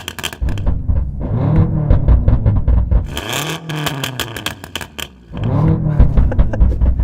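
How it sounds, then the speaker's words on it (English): An 800-horsepower BMW M5 fitted with a louder aftermarket exhaust revs hard several times, its snarling roar climbing and falling in repeated surges, close and loud. "this BMW is also fitted with a noisier exhaust"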